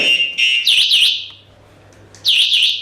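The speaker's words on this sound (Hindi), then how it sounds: "इस की से लॉकिंग करने के बाद एक तो सायरन कंटिन्यूस बज रहा है" An anti-theft alarm siren on an E-Biotorium electric scooter sounds after the scooter is locked with the key. Loud, warbling electronic chirps come in repeated bursts, with a short lull between them.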